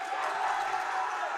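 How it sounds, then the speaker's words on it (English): Basketball fans in a high school gym at Weslaco, a steady wash of crowd noise and cheering throughout, fairly distant and moderate in level. "Fans cheering on their team here at Weslaco"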